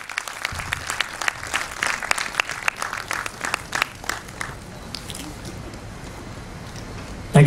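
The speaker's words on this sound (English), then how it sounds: "He deserves a louder applause" An audience claps for a guest of honour at a school blood donation camp, a dense, steady round of applause that carries on for several seconds before thinning out toward the end.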